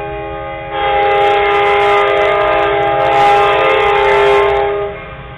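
A long train passing on the Oceanside railroad blasts a loud, sustained multi-tone horn for several seconds over a low rumble of rolling wheels.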